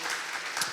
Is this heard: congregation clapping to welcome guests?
yes